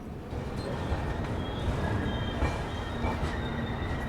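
A Humsafar Express train rolls through Assam with a steady, loud rumble of wheels and carriages, with faint squeals and light rhythmic clatter layered over it throughout.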